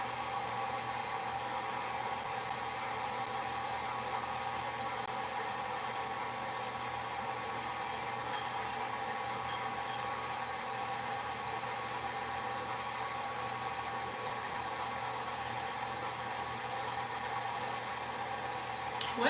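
Stand mixer creaming salted butter and sugar for a sour cream pound cake, with a steady, continuous motor whir and beater hum running throughout, close and even, with no talk.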